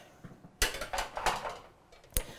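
Metal quarter sheet bakeware pans from USA Pan clank and clatter as they are handled, several sharp close knocks and scrapes spaced irregularly over a couple of seconds.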